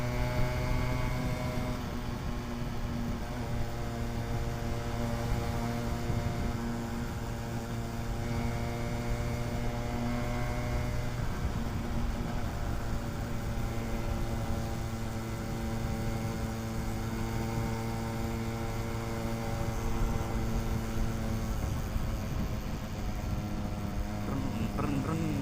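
A modified Yamaha RX135 two-stroke motorcycle engine drones loud and close on a highway ride, a constant buzzing note with a wind-blown edge. A rider talks over it in places.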